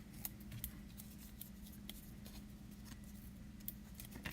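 Scissors cut paper for a craft project, making faint, quick snips that repeat irregularly over a low, steady background hum.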